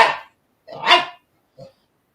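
A dog barks twice in quick, loud, close bursts, followed by a softer short yip, with no talk over it.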